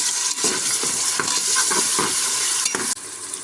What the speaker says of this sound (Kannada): ಸಣ್ಣದಾಗಿ ಕಟ್ ಮಾಡಿ ಇಟ್ಕೊಂಡಿದ್ದಂಥ ಟೊಮೊಟೊ ಸೇರಿಸ್ಕೊಂಡು ಅದನ್ನು ಸ್ವಲ್ಪ ಫ್ರೈ ಮಾಡ್ಕೊಳ್ತಾ ಇದ್ದೀನಿ.